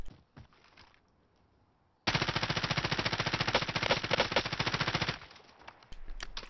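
Ram 7 assault rifle from Warzone firing a sustained automatic burst of about three seconds, a loud, rapid, steady stream of shots after a quiet lead-in.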